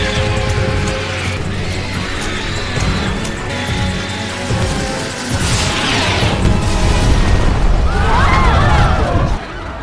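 A firecracker explodes in a film scene, its loud broadband blast rising out of a dense, busy soundtrack around the middle of the clip, with rumbling and layered effects continuing throughout.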